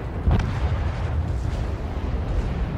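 Naval guns fire in World of Warships from the ship Salem, a loud booming shot near the start followed by sustained low rumble and further muffled blasts, with no talking.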